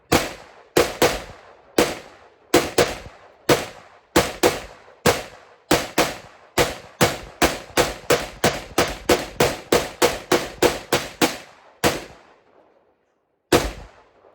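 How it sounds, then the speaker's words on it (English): Loud gunshots fired one after another, about two dozen sharp blasts in an irregular then faster rhythm with brief pauses, close and booming, ending with a final lone shot after a gap. "You can just feel that thumping you in the chest every time he fires."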